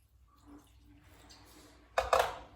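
White wine pours in a short burst into a bowl, a splashing rush near the end after a quiet stretch.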